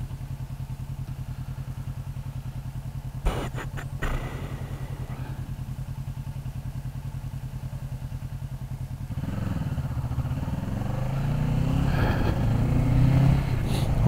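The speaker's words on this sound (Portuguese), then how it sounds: "Olha o barulho da menina da Ferrari." A Ferrari engine grows louder from behind, revving and rumbling closer over a steady idling motorcycle engine, with a couple of brief clatters partway through.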